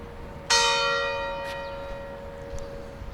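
A church bell in a Maltese village strikes once at 6:30 in the evening, a loud clear toll that rings on and slowly fades, with a faint second tone later and low outdoor hum beneath.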